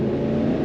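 Lexus GX V8 SUV engine accelerating, a steady close low rumbling growl from inside the vehicle over a brief moment.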